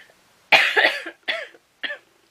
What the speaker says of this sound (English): So I've had quite a bad cough.